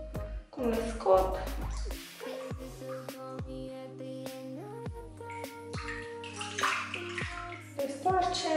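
Cloths soaked in water and wrung out by hand, splashing and dripping in short bursts with trickling water, mixed with game-like music tones and talk in the background.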